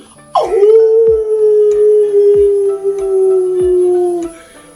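Black dogs howl in a long, loud, sustained wail that holds steady for several seconds before cutting off, with soft regular thuds beneath it.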